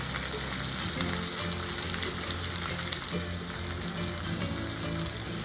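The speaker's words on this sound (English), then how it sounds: "What you do is you just sear" Steaks seasoned with a roasted herb blend sear in a hot pan, giving a continuous, even crackling sizzle at close range with no talk over it.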